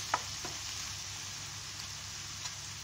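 Fish masala is sautéed in a pan and gives a faint, steady sizzle. A couple of soft spatula scrapes stand out briefly at the start and again near the end.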